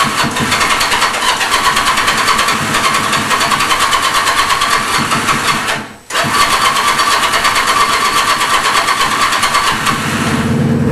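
A brand new Mark 12 motorbike runs loud and steady after a kick-start, its mid-pitched engine idling with a brief cut-out near the middle before it picks back up and keeps going.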